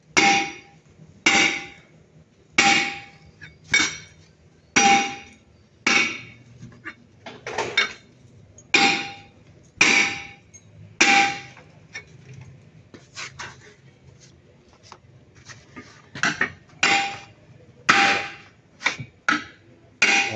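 Hammer blows on a cracked concrete loading area, sharp metallic strikes landing in loose rhythmic bursts of two or three, near and loud, with a little background noise between them and no talk.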